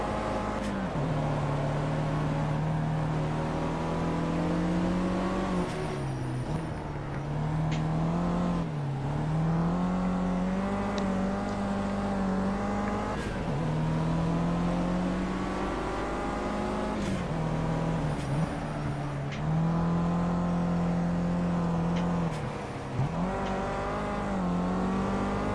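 Renault Mégane race car in the Project Cars racing game, its engine droning steadily throughout with a constant loud tone that rises and dips as it shifts and revs through corners, no talk over it.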